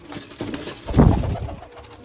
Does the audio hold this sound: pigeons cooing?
yes